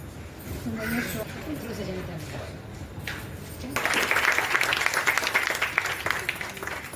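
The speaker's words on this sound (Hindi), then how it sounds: "न्यू टीचर के लिए तालियां।" After a stretch of talking, applause breaks out from guests at a women's club installation event in a hotel, welcoming a new teacher, with clapping continuing over the final seconds.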